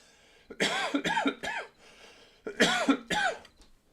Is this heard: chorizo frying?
no